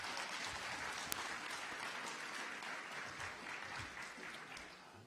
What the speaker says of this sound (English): let's give everyone a round of applause for being here